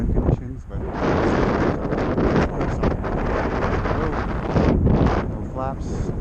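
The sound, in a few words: strong gusting wind at RC airfield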